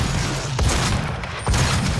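Grenade launcher blasts in the video game Doom, two heavy booming explosions about a second apart with low rumbling tails, loud against a dense background of game noise.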